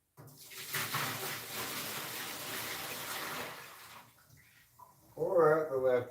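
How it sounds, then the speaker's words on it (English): Leftover coffee is poured out into a sink as a steady splashing stream that lasts a few seconds. A brief, fuller gush of running water follows as the stream ends. "pour out the leftover coffee."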